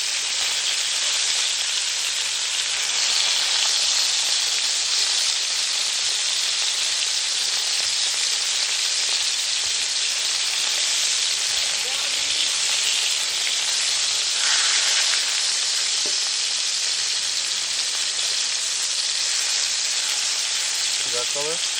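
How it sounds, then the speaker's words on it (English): Oxtails browning and searing in a hot pan for Caribbean-style cooking, a steady loud sizzle and hiss that continues throughout with only slight swells. "I'm going to finish searing off these oxtails"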